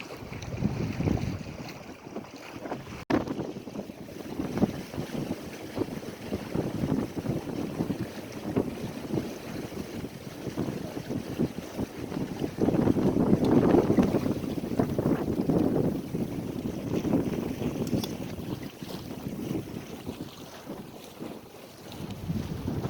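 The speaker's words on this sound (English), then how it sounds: "When the clouds cover, it seems the wind picks up" Wind rushing steadily past while sailing a boat from Penetang to Chimney Bay, buffeting the microphone as a broad roar with gusts swelling midway, and faint water sounds beneath.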